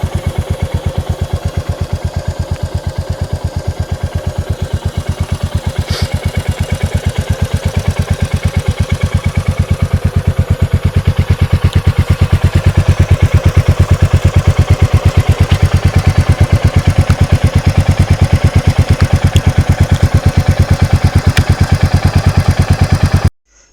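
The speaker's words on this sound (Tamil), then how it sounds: "அண்ட் எக்ஸாஸ்ட் நோட் கூட செக் பண்ணி பாருங்கள்." A Royal Enfield Meteor 350 BS6 motorcycle idles close by, its single-cylinder exhaust note a steady, even low thump that holds throughout and cuts off abruptly at the end.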